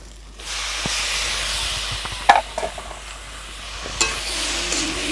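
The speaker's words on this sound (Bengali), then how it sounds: "এবার দিয়ে দেবো সিদ্ধ করা মোচা আর আলু" Boiled banana flower and potatoes dropped into frying spices in a pan for an egg and banana flower curry, giving a steady close sizzle with a few stirring knocks and a scrape partway through.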